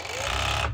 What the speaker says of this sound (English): you have to be very careful that you're actually only serging over one layer of fabric